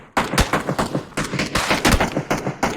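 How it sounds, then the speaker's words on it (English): Gunfire in the video game PUBG, a rapid series of loud, sharp shots in uneven bursts with brief gaps between them, close and prominent with nothing else behind it. "Oh, the gunfire is distracting him."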